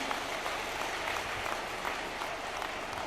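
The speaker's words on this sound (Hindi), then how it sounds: "एक बार जोरदार तालियां बजाकर उनका अभिनंदन करें।" An audience at a village development gathering in Sikar applauds to welcome Chief Minister Bhajanlal Sharma, a dense, sustained burst of clapping from a large crowd, loud and continuous throughout.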